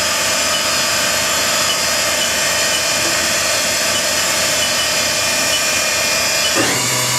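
A Haas Super MiniMill CNC vertical machining center spindle spins at about 7,500 RPM, a steady loud high whine with a rich harmonic hum that shifts pitch near the end.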